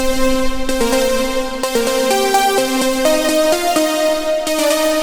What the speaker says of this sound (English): This is a saw wave lead that I created inside of Serum.